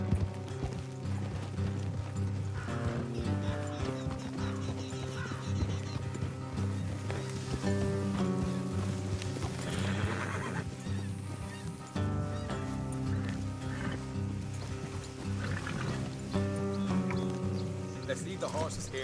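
Horses' hooves clip-clop steadily along a trail in Red Dead Redemption 2, a continuous rhythmic plodding heard under a full musical score, with occasional soft mechanical clinks.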